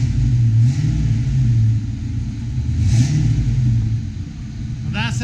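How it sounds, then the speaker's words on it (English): A 1992 Mustang GT V8 with an off-road X pipe exhaust idles with a deep burbling rumble, swelling through a few revs and settling back, a close and loud exhaust note under a brief voice. "I cannot wait to give it a couple revs for you."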